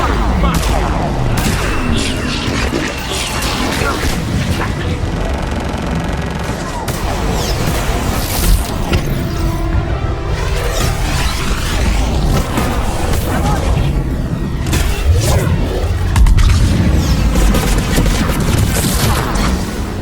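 A missile salvo fires in Mass Effect 3, a dense barrage of booms and rapid launches over a constant roaring rumble, loud and sustained, with voices talking over the action.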